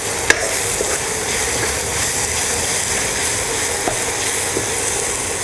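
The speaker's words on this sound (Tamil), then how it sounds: "அந்த தக்காளியோடு சேர்ந்து அது மசாலாவும் நல்லா அந்த எண்ணெயில் நல்லா வேகட்டும்." Tomato and masala fry in oil for a vada curry, giving a steady, even sizzle throughout with a couple of faint clicks and no talking.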